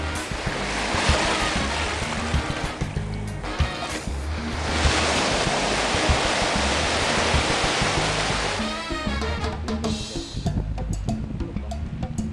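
Loud, steady wash of sea waves breaking on a shore, a broad continuous roar filling the whole stretch with surges around the middle and a lighter, choppier tail near the end.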